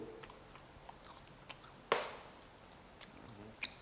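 Chewing crispy barbecue cheese-flavored fish strip snack, with soft, scattered crunches and one sharper bite in the middle, close to the mic and fairly quiet.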